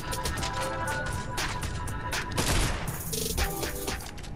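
Suppressed pistol shots and dense gunfire in a zombie video game, a steady loud barrage of overlapping shots with brief louder bursts, under a busy game soundscape.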